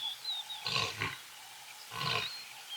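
A wild female lion gives two deep, breathy calls to two males, heard at a moderate distance over faint background hiss.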